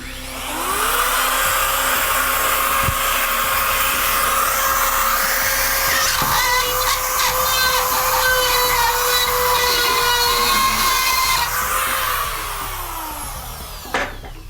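Power drill driving drywall screws into a ceiling: a loud, steady high whine that holds for about eleven seconds, then spins down and ends with a sharp click.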